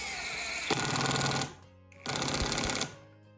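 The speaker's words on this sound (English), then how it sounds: "It makes it nice when you're doing pocket holes like this" A Kreg drill drives a pocket hole screw into wood in two loud whirring bursts about a second long each, separated by a short pause, close up and without talk.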